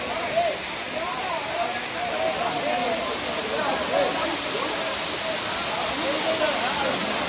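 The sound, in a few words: Pepper Falls waterfall in Kodaikanal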